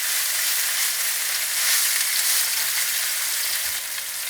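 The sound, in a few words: salmon searing and sizzling in a pan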